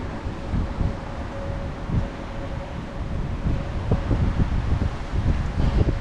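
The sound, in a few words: wind buffeting camera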